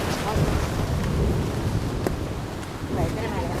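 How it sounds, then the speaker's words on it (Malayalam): Rain pours down on a home farm and garden plot, a dense, loud, continuous hiss with gusty wind rumble and a few sharper spatters. "മഴ വീണ് കഴിഞ്ഞു."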